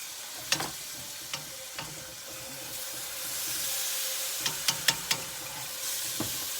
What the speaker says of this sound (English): And I'm just stirring, I'm stirring this, brisking this up real good.